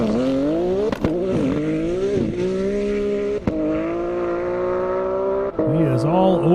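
Porsche Turbo drag racing down a half-mile airport airstrip, a loud sustained engine wail climbing in pitch through several gear changes with brief shift gaps, while an announcer talks over it.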